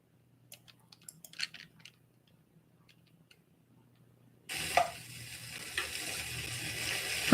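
A metal spatula clicks and taps faintly against a pan while liver cooks, then a steady, loud, hissing sizzle sets in and carries on with scraping strokes over it.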